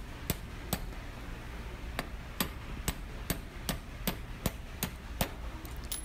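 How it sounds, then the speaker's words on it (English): A hammer strikes a punch, pressing pins through the side plate holes and bushings of a roller chain held in a chain vise. About fourteen sharp metallic taps come at a steady, fairly quick rhythm, close up, with no voices. "Using a punch, chain pins are pressed through side plate holes and through the bushings of"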